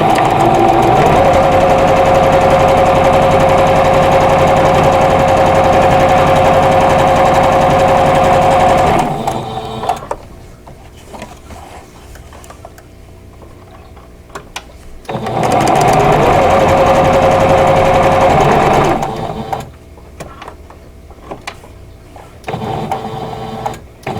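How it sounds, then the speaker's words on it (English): A sewing machine stitches quilt block pieces for a vintage Wheel of Fortune block in two long steady runs of about nine and four seconds, loud and close, separated by quiet handling pauses. "I'm going to sew a 1/4 inch away from both sides of this drawn line."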